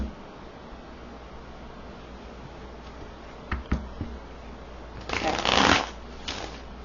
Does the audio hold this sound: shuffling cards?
yes